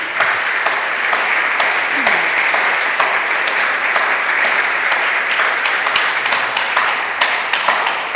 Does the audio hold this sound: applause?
yes